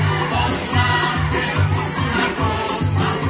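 A school crowd at a celebration claps and cheers in a dense, loud roar that swells and dips in waves, with shouting children mixed in, heard close.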